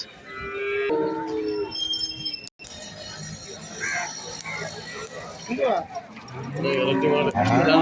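Cattle low repeatedly at a busy livestock market in Valliyoor, Tirunelveli, where HF cross and Jersey heifers are traded, the moos loud and near among crowd chatter and someone talking.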